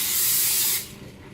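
A can of hair spray releases one loud, close, continuous hissing burst on hair, lasting well under a second before cutting off into quiet room tone.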